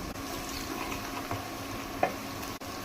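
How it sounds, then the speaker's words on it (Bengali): Onions frying in a pan until golden brown, a steady low sizzle with faint stirring scrapes, close and continuous with no voices. "পেঁয়াজটা সুন্দর গোল্ডেন ব্রাউন করে ভাজবো"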